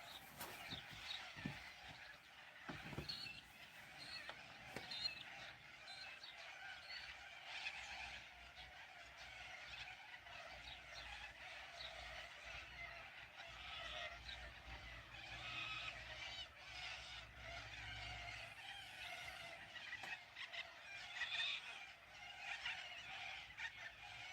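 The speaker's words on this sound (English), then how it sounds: "And I'm just going to listen to the birds for a sec." Birds call and honk continuously outdoors, a busy chorus of overlapping cries with faint background noise and no talking.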